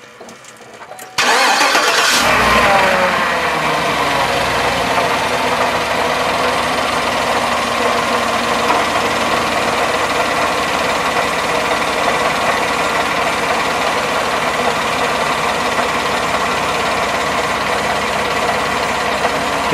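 2018 Chevrolet Silverado with an 8-speed transmission cranks briefly and catches after a quiet moment, then settles into a steady, loud, even idle that runs on alone.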